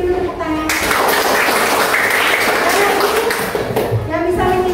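Classroom applause: a few seconds of dense, busy clapping in the middle, with voices talking just before and after it.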